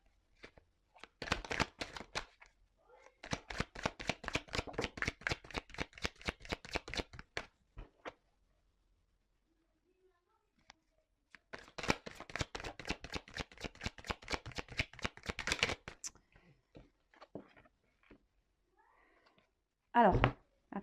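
A deck of cards is cut and shuffled in two long, fast riffling bursts separated by a quiet pause, then a brief final flutter, all close and crisp.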